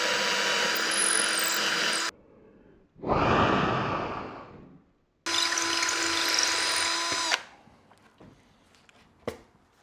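Power drill boring holes in a skateboard deck, two long loud whining bursts of drilling separated by a heavy breathy whoosh, followed by quieter clicks and handling taps.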